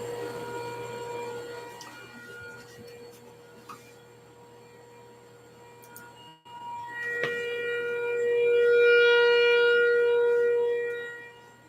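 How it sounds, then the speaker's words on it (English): A steady air raid siren drones on with long sustained tones, briefly cutting out, then swelling louder and holding before easing off. "it's our air raid siren."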